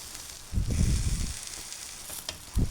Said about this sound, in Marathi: दोन्ही साईडने छान खरपूस असे हे उत्तपेज मी भाजून घेते आहे